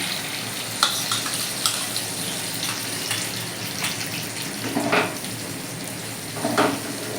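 Ridge gourd and potato frying in a pan as poppy seed paste mixed with water is added, giving a steady hiss and sizzle with a few soft scrapes and wet splashes mixed in.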